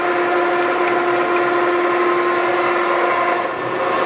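An Okamoto ACCUGAR 124N hydraulic surface grinder runs a plunge grind, giving a steady loud hum with a sustained tonal whine and constant broadband hiss, unbroken for the whole span.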